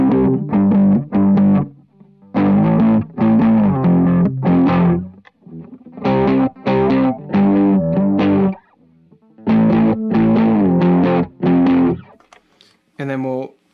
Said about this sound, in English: I'll turn this on to my standard chorus sound